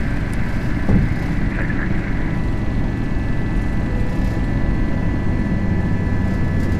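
An FSLabs A320 in a flight simulator rolls down the runway for takeoff, its engines giving a steady, loud broadband roar with a faint tonal whine, constant throughout and with no talk over it.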